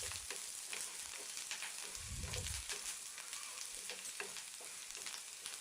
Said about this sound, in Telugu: ఇప్పుడు బాగా వేగిన తర్వాత కొంచెం పసుపును వేసుకొని వేయించుకోవాలి